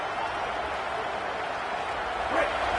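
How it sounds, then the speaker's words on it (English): Roaring football stadium crowd, a dense, steady wall of cheering noise that swells slightly near the end, loud and continuous with no clear individual voices. "listen to this crowd noise. This stadium is vibrating"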